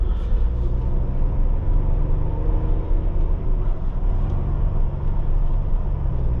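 A 2021 Ford Bronco WildTrak 4-door driving along, heard from inside as a steady, loud low rumble of engine and road noise without a break.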